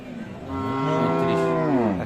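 A Friesian cow lets out one long, loud, close moo at Aftabganj cattle market in Dinajpur, rising and then holding for nearly two seconds.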